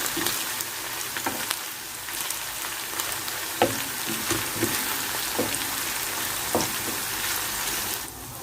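Chicken for shawarma fries in a pan with a steady, close sizzle, broken by a few clacks and scrapes as the pieces are stirred and turned.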